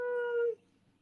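A pet parrot mimics a cat's meow, giving one drawn-out, tonal, clear mew that lasts about half a second and then stops, with quiet room sound afterward.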